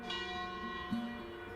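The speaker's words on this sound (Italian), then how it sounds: "La campana di Nasino echeggia nella valle" The church bell of Nasino in Val Pennavaire rings out across the valley, a resonant, sustained metallic tone with a second strike late in the brief moment, heard alone without voices.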